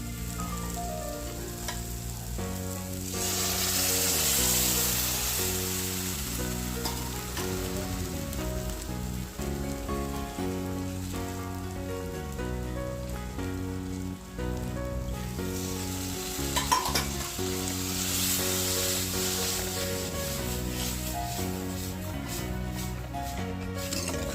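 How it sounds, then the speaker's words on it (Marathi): Cooked dal is poured into spices frying in hot oil and stirred for dal fry, making a loud, steady sizzle with scraping stirring sounds throughout and a few brighter bursts of spitting oil. "सगळे मसाले तेलावर चांगले परतून झाले की आपण डाळ शिजवून घेतलेली ती यात घालून घेऊ"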